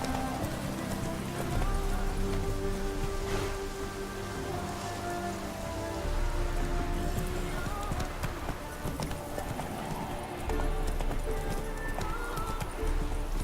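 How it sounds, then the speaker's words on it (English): Steady rain pours in The Witcher 3 game world, a continuous hiss of drops layered with horse hooves clip-clopping and faint game sounds, constant and moderately loud throughout. "Must be mad running around in this rain."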